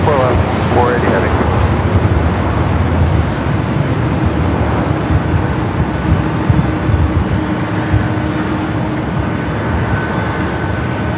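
A Boeing 767-300ER takes off from LAX bound for Honolulu, its engines a loud broadband roar with wind buffeting that stays steady and close throughout, and voices briefly audible over it.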